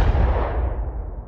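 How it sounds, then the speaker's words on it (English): A single exploding target detonates with a loud, deep boom right at the start, followed by a long rumbling decay that slowly fades. "we're gonna do archery with exploding targets"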